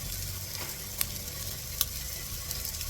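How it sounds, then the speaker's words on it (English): Thinly sliced onions sizzle in a pan while being stirred for an apple gourd and goat meat curry; a continuous close frying hiss carries a couple of sharp spatula taps against the pan, with no talking. "Give it a nice mix and let the onions go a little soft."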